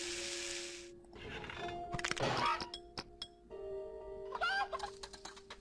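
A chicken clucking in the puzzle game Mystery Case Files: Ravenhearst, a few short fowl calls mixed with chiming clinks and dings of the game's puzzle sounds, fairly quiet and with no talking.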